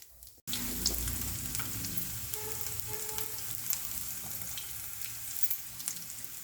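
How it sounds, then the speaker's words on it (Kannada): Mustard seeds, cumin, salt and chilli fry in a pan while making chudwa, giving a close, steady, crackling sizzle that runs throughout, with no talking. "ಸಾಸಿವೆ, ಜೀರಿಗೆ ಮತ್ತು ಉಪ್ಪು, ಖಾರ ರುಚಿಗೆ ತಕ್ಕ ಹಾಗೆ ಹಾಕ್ಕೊಂಡು ಅದನ್ನು ಕೂಡ ಫ್ರೈ ಮಾಡಿ ಮಿಕ್ಸ್ ಮಾಡಬೇಕು"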